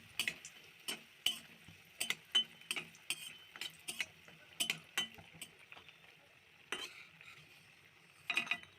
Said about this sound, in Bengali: এবার একই তেলে কিছুটা ডালের বড়ি ভেজে নেব